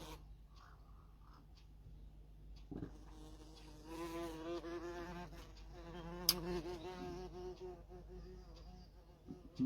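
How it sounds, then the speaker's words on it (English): Inside a new timber potting shed, a wasp drones and whines in varying pitch, swelling louder in the middle as it circles close, with faint rustling around it. "Sorry, I'm just looking at this wasp. It's not a good thing to have in a potting shed"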